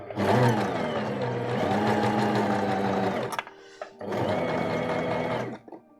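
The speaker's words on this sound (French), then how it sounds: "Allez, donc je couds tout droit." A foot-pedal sewing machine runs a straight seam on a dress in two long, close, loud whirring bursts with a short pause between them, followed by brief mechanical clicks as it stops.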